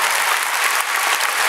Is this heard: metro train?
no